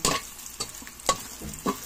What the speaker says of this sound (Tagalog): Prito muna natin para luto na siya